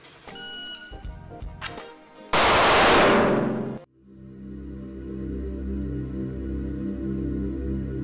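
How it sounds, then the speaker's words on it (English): Pistol fired from an appendix-carry holster on a shooting range: a loud sharp burst of gunfire with ringing reverberation, preceded by electronic beeping from a shot timer and followed by a lingering low hum. "I'm going to shoot two shots"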